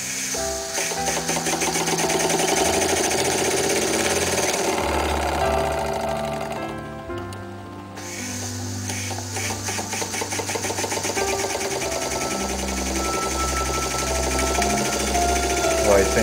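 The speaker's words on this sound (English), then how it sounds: "I think that little engine runs good." A small Bing Weeden toy steam engine, now refitted as a Bing Ripley, runs with a fast, steady mechanical chatter and rhythmic clatter, loud and close, with a brief dip midway before picking back up.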